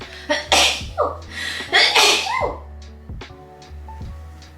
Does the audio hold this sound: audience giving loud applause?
no